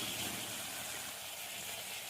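Prawns frying with spices in a Bengali-style koshano, giving a soft, steady sizzle that stays even and fairly quiet throughout, with no voices.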